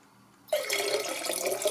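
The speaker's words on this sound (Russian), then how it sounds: "Сейчас я покажу, как вода из носика льется." Water pours in a thin stream from an electric kettle's spout, starting after a brief quiet moment and continuing as a steady, close, moderately loud splashing flow.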